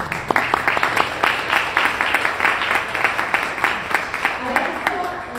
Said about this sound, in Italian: Quindi un grosso applauso ai nostri medici e alle nostre persone.